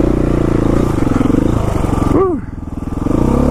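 Dual sport motorcycle ridden along a rough trail through West Virginia woods, its engine droning steadily up close with a short rev swell and dip midway before the engine note settles back.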